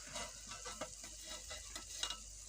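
Lachha pakora, shredded onion fritters, frying in oil as the second side cooks, a faint, even bubbling sizzle with occasional light ticks and scrapes, no voices.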